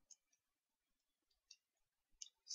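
Keyboard clicks, a handful of faint, sparse, isolated taps spaced irregularly over a quiet background, with a slightly louder click at the end.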